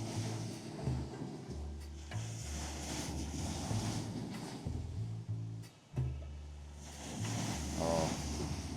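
Steady wind gusts outdoors buffet the microphone in a continuous rushing roar with brief drops, loud and close throughout with no talk.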